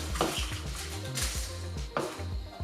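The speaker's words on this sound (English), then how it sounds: "So we are going to dry roast it first." Six dry red chilies being dry roasted in a pan with no oil, giving off a steady close-up rattling and scraping with a few sharper clinks of utensil against the pan.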